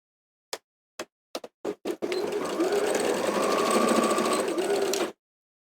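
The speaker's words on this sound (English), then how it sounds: "sew the same distance from the corner" A sewing machine stitches the corner of a lining, first in several short separate taps and then in one continuous three-second run, close and clear with no talk.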